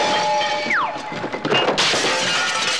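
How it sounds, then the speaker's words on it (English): A cartoon rabbit crashes through window blinds and a glass pane: a falling whistle slides downward, then a loud smash and bright shattering of glass crashes in and rings out to the end. "crashing through the blinds and out the window."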